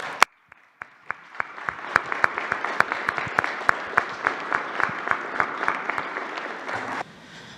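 Applause at a press conference, a steady crowd clapping with sharp individual claps standing out, running for about seven seconds before cutting off.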